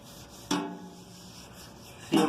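An oil-soaked rag wipes across a seasoned griddle plate over mesquite, making two short, soft rubbing swipes about one and a half seconds apart over a faint background hum.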